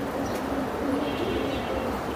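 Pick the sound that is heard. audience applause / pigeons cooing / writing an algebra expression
pigeons cooing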